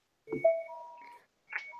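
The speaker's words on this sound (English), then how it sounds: "You heard an alarm go off inside this room, and it was that" An electronic alarm sound effect plays during a tabletop role-playing game: a brief burst, then a steady tone that steps up in pitch and a short final chirp.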